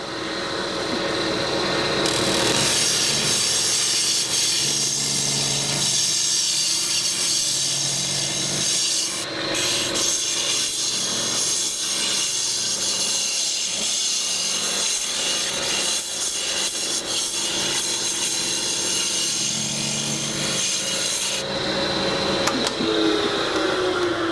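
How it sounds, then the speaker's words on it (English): A negative rake round scraper cuts a wooden bowl spinning on a lathe, a steady rasping scrape running unbroken and fairly loud at close range, easing off near the end. "Let's try the negative rake round tool."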